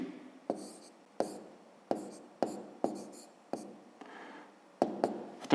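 Handwritten math answers going down on paper in a 5th-grade exercise book, with a series of quick, sharp pen taps and scratches in an irregular rhythm, close and quiet.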